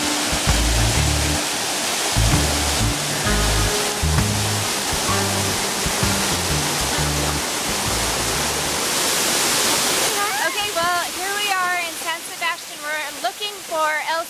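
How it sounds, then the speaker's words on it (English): Small waterfall near El Saltillo in Puerto Rico roars as a steady broadband rush, with low tonal background sounds early on and a voice speaking over the water later. "Here's one of the little waterfalls down here by El Saltillo."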